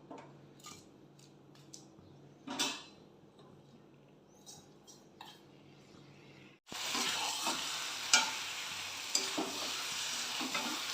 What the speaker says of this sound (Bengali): এটাকে একটুখানি নেড়ে চেড়ে ভালো করে মিশিয়ে নেব